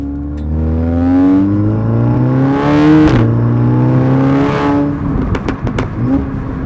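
Audi S3 tuned to 520 bhp and 620 Nm of torque, heard from inside as the engine revs hard and accelerates, pitch climbing through gears, with a few sharp crackles near the end.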